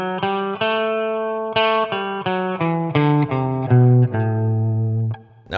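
A distorted electric guitar plays the Dorian mode one note at a time, about a dozen sustained notes in a steady stepwise run, ending on a long held low note.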